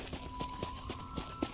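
Horse hooves clip-clop at a steady trot in the western video game Red Dead Redemption, a short run of evenly spaced hoof hits, moderately close, over low ambient game noise.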